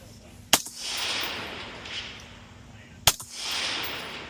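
Two sharp gunshots about two and a half seconds apart ring out at a practical shooting match stage, each a loud crack followed by a short echoing tail over steady outdoor background noise.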